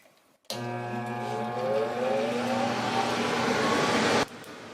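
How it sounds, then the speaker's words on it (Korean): A laser cutting machine running while cutting acrylic for keychains, a loud steady mechanical whir with shifting tonal hum that starts abruptly, continues for about four seconds, then cuts off. "레이저 커팅기에 인쇄하러 갈게요."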